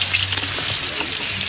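Steady, loud sizzling of garlic and onion frying in a hot pan for bitter melon, a continuous crackling hiss with no talking.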